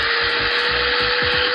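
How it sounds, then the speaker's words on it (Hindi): An electric drill machine runs in reverse to back its bit out of a freshly drilled hole: a loud, steady motor whine close by, with rhythmic scraping and grinding pulses as the bit turns free. "तो चलिए रिवर्स करते हैं और इस ड्रिल मशीन को बाहर निकालते हैं।"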